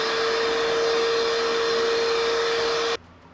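Vacuum cleaner running in a woodworking workshop, a loud steady whine with a constant pitched hum that cuts off abruptly after about three seconds, heard close with no talk.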